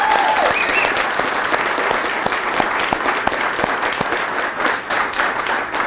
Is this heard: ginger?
no